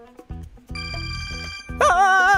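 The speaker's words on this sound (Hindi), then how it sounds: "फोन बज रहा है, बेल नहीं।" A telephone rings in a Hindi-dubbed drama scene, its electronic tone swelling louder and steadier after a few choppy opening pulses, close and clear with no voices over it.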